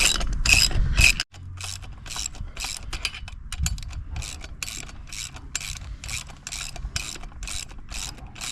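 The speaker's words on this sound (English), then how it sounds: "I'm just going to use this breaker bar on one side and my ratchet on the other side, and I'm just going to do this up" A ratchet and breaker bar tightening the bolts on a caravan jockey wheel, an Ark 750: a sharp burst of clicks, then a long, steady run of evenly spaced ratchet clicks, close up.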